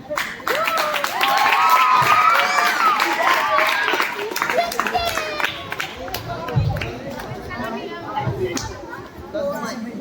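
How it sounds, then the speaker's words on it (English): A crowd at an educational cricket match claps and cheers for the winning Goa team, a dense burst of applause with lively chatter and a voice speaking over it. "so Goa team please stand up, give them big clap."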